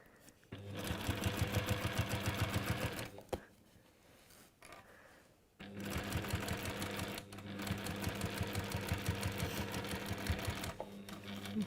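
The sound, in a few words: sewing machine stitching a quarter-inch seam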